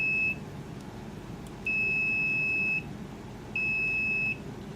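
A continuity tester gives three long, steady electronic beeps, evenly spaced, while checking connections in a desk battery distribution box, over a constant low background hum.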